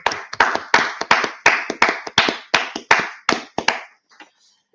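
Hands clapping in a steady round of applause from a small group at a Cisco live event, roughly a dozen sharp bursts over four seconds, fairly close, then trailing off into silence.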